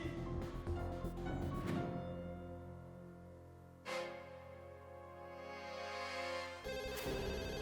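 A telephone rings indoors in a domestic drama scene, with repeated electronic rings and a short pause between bursts, clear and moderately close with no talk over it.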